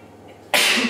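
A single sharp sneeze bursts out halfway through, loud and close after a quiet room, from someone who has a cold.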